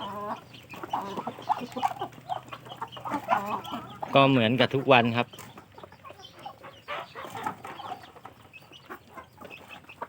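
Chickens cluck and squawk close by at evening feeding on a farm, with one burst of louder agitated calls midway, while someone speaks briefly over them.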